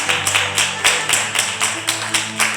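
A church congregation claps in acclamation to the Lord, a steady rhythmic beat of loud unified claps about three per second over a low sustained musical drone, with no voices.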